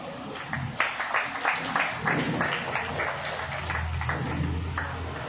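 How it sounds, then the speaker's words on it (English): Scattered applause at a community event at a Covid vaccination center honoring a health center doctor, individual claps audible at moderate distance over a low background hum. "A big round of applause for Dr. Roshan Nazareth"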